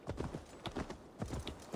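Horse hooves clip-clop in quick, uneven bursts on a path in the video game Assassin's Creed Valhalla, fairly close and moderately loud, with no talk over them.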